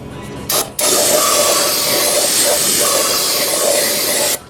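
A steady, loud hiss of aerosol parts cleaner spraying close by onto a Honda V6 engine's head mating surface for several seconds after a short initial burst, then cutting off.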